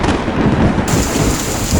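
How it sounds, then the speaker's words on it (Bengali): A heavy rainstorm with thunder rumbles loud and close, a continuous roaring downpour with no voices over it. "হঠাৎ একদিন আকাশ কালো হয়ে গেল শুরু হলো প্রবল বৃষ্টি"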